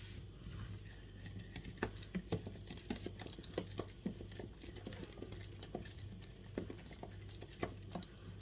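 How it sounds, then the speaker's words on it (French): A chicken dish is stirred in a pan with repeated soft scrapes and clicks of the utensil, steady and close, over a low background sizzle. "On va venir mélanger tout ça."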